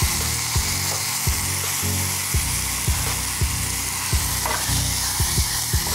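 Kashmiri red chili powder added to a hot dal tadka, a continuous loud sizzle with regular clicking knocks of a spoon against the pan roughly every half second, close up, no talk.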